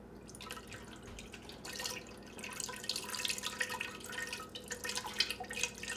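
Water pours from a bottle and splashes close by while making wild cranberry jelly, building into a steady trickle with scattered drips, no voices.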